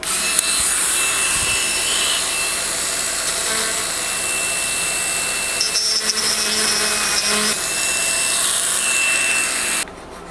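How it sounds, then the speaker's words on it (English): Power tool shaping the dive bib of a wooden crankbait lure: continuous abrasive grinding and rasping against wood, close and fairly loud for about ten seconds, with a high whine riding over it before stopping abruptly. "then I'll get a power tool on this thing"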